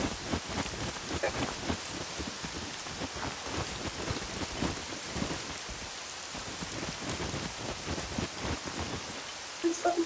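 Steady rain pours in the survival video game SCUM, a dense, continuous patter of drops on surfaces at moderate loudness, with no talk.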